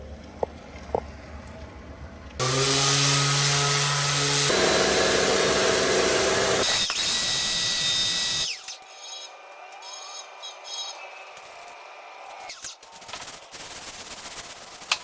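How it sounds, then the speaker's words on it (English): A power sander grinds across a concrete garage floor, loud and continuous with shifting pitch for several seconds, then the motor cuts and quieter rattles and scrapes follow. "I'm gonna take this sander and sand some of these oily spots and some of these rough spots"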